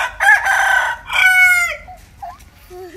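A rooster crows loudly and close by, two strong harsh calls trailing into softer clucks and squawks from chickens, with no one talking.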